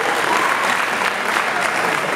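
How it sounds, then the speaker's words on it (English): Loud, dense applause from a concert audience after a school band's spring performance, a continuous roar of many hands clapping together without a break. "Another round of applause for the B-ball section."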